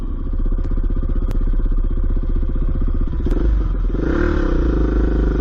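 A Honda XR400 dirt bike chugs up a steep, uneven hill in low-revving, torquey single-cylinder thumps, loud and close, with a few sharp clanks and a swell of throttle near the end.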